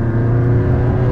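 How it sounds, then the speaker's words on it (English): A 750 WHP McLaren 600LT engine roars loudly and close in a short, sustained burst, its deep rich exhaust tone filling the moment without any talking. "The downshift pops too."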